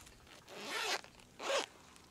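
Two short zipper pulls on a small pouch that holds a solar charger, close and quiet, with a brief pause between them.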